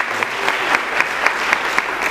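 Brief burst of audience applause at a motivational talk, steady clapping with a few accented claps at regular intervals, no talk.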